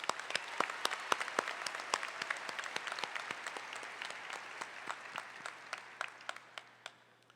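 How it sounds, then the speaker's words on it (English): Audience applause at a university commencement ceremony, a dense spread of many hands clapping steadily with sharp individual claps standing out, fading slightly toward the end. "Let's give them a round of applause."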